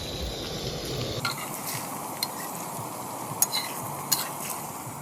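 A spatula scrapes and pries beneath a Thai omelette (khai jiao) frying in a pan, with a continuous hiss of sizzling oil and a few sharp metallic clinks of the utensil against the pan, close and steady, with no talking.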